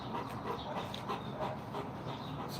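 A bull mastiff pants steadily at close range, with breathy rhythmic huffs and faint whimpering running through the whole stretch.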